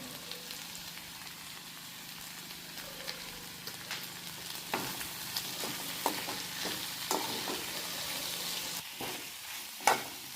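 A potato and besan curry fries and bubbles in a pan, a steady soft sizzle broken by repeated scraping stirs of a spoon, with a louder clack near the end; no one speaks.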